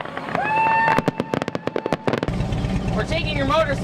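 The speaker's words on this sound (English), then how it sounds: "watching fireworks" Summer fireworks burst in a rapid crackling series of sharp pops over a sustained tonal whine, followed by dense rumbling crackle with whistling streaks, fairly distant and continuous.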